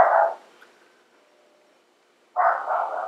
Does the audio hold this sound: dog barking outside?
yes